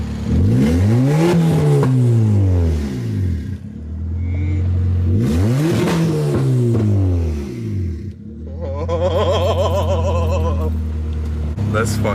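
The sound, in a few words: hatchback car engine revving with crackle/pop tune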